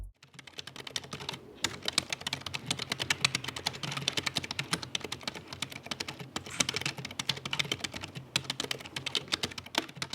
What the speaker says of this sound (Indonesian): contoh suara feedback dari keyboard bawaan PC Acer Aspire